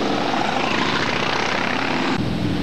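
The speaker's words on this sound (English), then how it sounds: "The National Guard showed support for our pilgrimage with a helicopter squadron flyover." A National Guard helicopter squadron flying over, a steady loud whirring drone of rotors and engines that holds throughout with no break.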